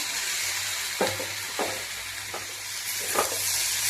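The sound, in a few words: banana flower pieces frying in oil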